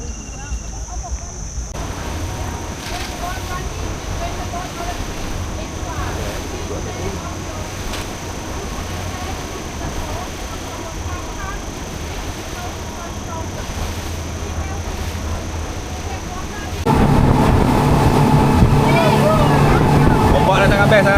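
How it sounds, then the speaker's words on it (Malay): A speedboat engine drones steadily while crossing open sea on an island-hopping run near Phi Phi Island, Krabi, with a constant rumble and water rush that swells louder near the end; people talk over it. "Dia paling best bila experience naik speedboat ni, dia bumping lah."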